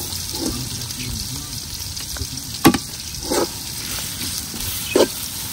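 Garlic hitting hot oil in a pan during a village-style beef curry cook, a steady close frying hiss with a few brief sharper sizzling bursts and stirring clatters.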